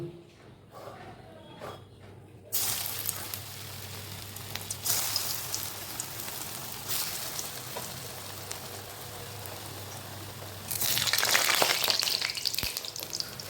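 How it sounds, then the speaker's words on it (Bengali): Leaf patties go one by one into hot oil and start a steady, close sizzle that suddenly turns louder and more crackling when another patty is added. "তো এইবারে একটা একটা করে ভাজবো"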